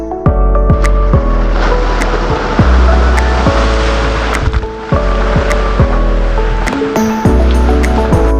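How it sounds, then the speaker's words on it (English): Continuous rushing, sloshing water with splashes as a Jeep ploughs through a big, deep puddle on Maui, loud and close, with repeated thuds and clunks. "my dad drove the Jeep through this big puddle of water"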